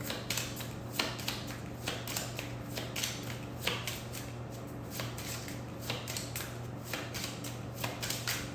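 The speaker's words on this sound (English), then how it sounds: "I want to pull a couple cards for us from this deck." Deck of cards being shuffled, a quiet run of soft rapid riffles and taps over a steady low hum, close and faint with no talk.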